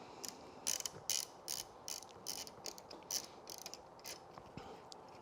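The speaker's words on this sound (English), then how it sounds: "go ahead and loosen those nuts" A hand ratchet fitted with an E13 external socket loosens the seat nuts on a 2021 Toyota Tacoma, giving repeated short bursts of clicking in an uneven rhythm, close-up and quiet, with no voices.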